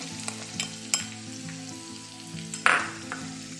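Curry leaves, crushed coriander seeds and a coarse ginger-garlic paste sizzle in hot oil for batata vada, a steady crackle punctuated by spoon clacks and one sharp burst, over a low background hum and with no talking.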